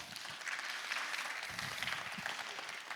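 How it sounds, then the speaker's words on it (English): An audience at a conference panel on trade gives sustained, even applause, a dense patter of clapping hands lasting a few seconds. "Let's give her an applause."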